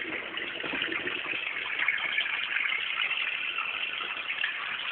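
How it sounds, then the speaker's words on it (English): Steady running cold tap water gushes continuously over parsley, a bright hissing stream with no pauses and no voices. "Just rinse the parsley under cold water."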